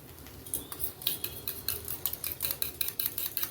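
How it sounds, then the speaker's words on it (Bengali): Curd (yogurt) whisked briskly with a utensil in a bowl, giving a quick run of light scraping clicks and taps in steady rhythm, close and fairly soft, with no talking. "দইটাকে আমি ভালো করে ফেটিয়ে নিচ্ছি"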